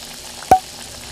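Dried chiles fry gently in oil over low heat for salsa macha, a soft, even sizzle with one sharp pop midway through the short stretch.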